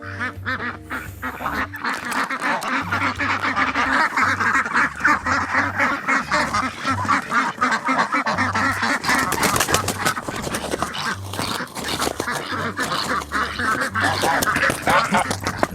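A male duck calls repeatedly, raspy quacks in short irregular bursts close by, with other ducks and fowl clamouring around it across a long stretch.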